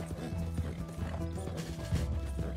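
Horse hooves clop at a steady trot with a short whinny in Red Dead Redemption 2, loud and close under a busy ambient wash, with no talking.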